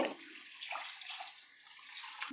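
Water pours steadily from a cup into a pan of chicken curry paste, a continuous bright splashing stream, close and fairly soft, with no voices.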